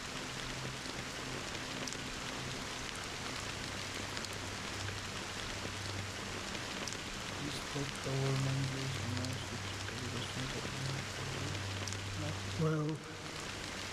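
Steady rain hisses throughout a Honkai Star Rail game scene, moderately quiet and even, with a low tonal hum partway through and a single brief word spoken over it.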